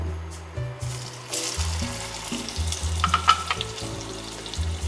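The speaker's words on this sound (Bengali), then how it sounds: "পনিরগুলোকে হালকা একটু ভেজে নিতে হবে" Paneer pieces fry in hot oil in a pan, a steady close sizzle with irregular bursts of crackle and the scrape of stirring, no talking.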